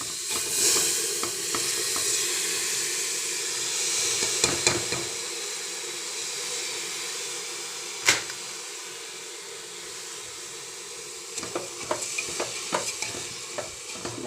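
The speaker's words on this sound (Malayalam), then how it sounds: "ഇതിലേക്ക് റൈസ് ചേർത്ത് ഒരുമാതിരി ഒന്ന് വരട്ടി എടുക്കണം" Cooked rice is stir-fried in a hot pan, a steady close sizzle broken by repeated sharp scrapes and clacks of a spatula against the pan, with no one speaking.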